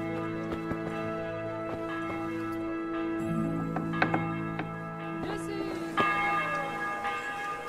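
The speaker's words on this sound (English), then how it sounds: "I got awakened by the tournament bell" A tournament bell rings out in the medieval game Kingdom Come Deliverance, several struck tolls with long, shimmering decays layered over faint clattering ambience.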